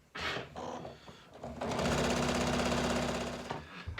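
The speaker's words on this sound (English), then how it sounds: "let's start there, and just sew down the curve" Sewing machine stitching along the curve of a fabric face mask, a loud, close, rapid mechanical chatter that follows a few brief handling bumps and runs steadily for about two seconds before stopping.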